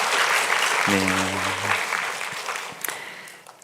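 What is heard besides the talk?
congregation applause in church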